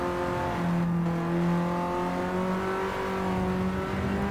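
A Honda Civic fitted with an aircraft engine laps the wet Tsukuba circuit, its engine holding a steady, droning note with tones that rise slowly under load, heard continuously from inside the car without talk.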